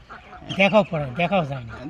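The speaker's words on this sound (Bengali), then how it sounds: "দেখেন হাঁসগুলি কাছে চলে আসলো" Ducks on a duck farm quack in a few quick nasal bursts, close by and fairly loud, with a short gap between the calls.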